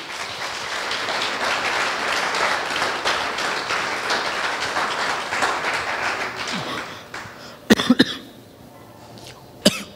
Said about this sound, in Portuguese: Pode aplaudir Ele.